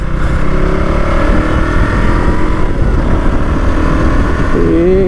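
A KTM Duke 200 motorcycle, new 2025 edition, is ridden on the road, its engine droning loud and steady throughout with a constant low rumble and wind noise, a brief rising rev near the end.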